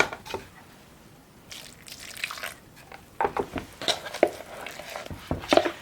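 Soft stirring of a yeast dough mixture for pączki (doughnuts) after warm milk is poured in, with scattered scraping and light clinks of a spoon against a bowl, close and fairly quiet.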